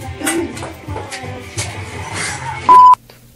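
Phone call tones: a short steady electronic beep sounds loudly near the end, preceded by quieter tapping and shuffling noises, with no speech over it.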